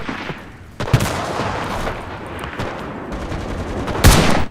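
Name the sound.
gunfire in the video game Enlisted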